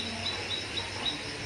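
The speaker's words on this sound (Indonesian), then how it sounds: "itu barusan dengar kan ada suara burung" Faint, high bird chirps repeat a few times at a steady spacing, far off over a soft outdoor hiss.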